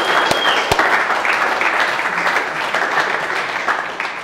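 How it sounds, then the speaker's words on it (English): Audience applause at a company all-team update and awards presentation: loud, dense clapping that holds steady for several seconds and fades slightly at the end. "Give him a round of applause."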